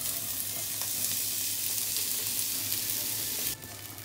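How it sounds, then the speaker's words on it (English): Onions caramelize in olive oil in a pan with a continuous, even sizzle and crackle that softens abruptly near the end; no voices are heard. "So these onions, like I said, they're caramelizing perfectly."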